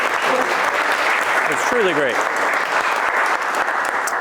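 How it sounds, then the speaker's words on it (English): An audience gives singer David another round of applause, a loud, dense, continuous clapping that fills the whole moment while a voice briefly speaks over it. "Let's give David another round of applause."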